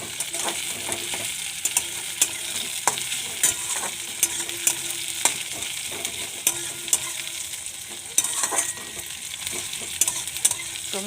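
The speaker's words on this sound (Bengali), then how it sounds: "পেঁয়াজটা ভেজে নিই, পেঁয়াজটা ভাজা ভাজা হোক" Onion frying in a pan while being stirred, a steady crackling sizzle broken by repeated sharp scrapes and taps of a spoon against the pan, close, with no one speaking.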